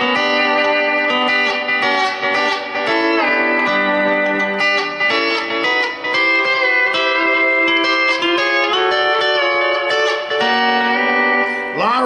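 Sustained lap steel guitar notes ring out through a small Peavey Viper 1 amplifier set with heavy reverb and slight delay, sliding between pitches with a slightly gritty, reverberant tone.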